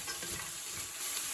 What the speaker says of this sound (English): Just going to put a couple of handfuls in, let it start off, let the heat build back up in the pan